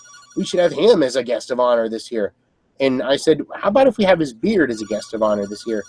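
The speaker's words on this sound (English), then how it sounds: "And the phone's ringing." A telephone rings in a room with a repeating electronic trill that runs under steady conversation, faint against the voices and stopping only briefly during a pause in the talk.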